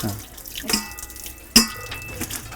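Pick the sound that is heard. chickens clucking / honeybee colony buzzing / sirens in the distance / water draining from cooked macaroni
water draining from cooked macaroni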